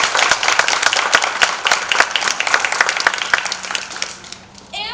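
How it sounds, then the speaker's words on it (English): An audience at an adult education graduation ceremony applauds the staff and teachers. Distinct claps come thick and fast at first, then thin out and fade, and a voice enters right at the end. "Can we give them a round of applause?"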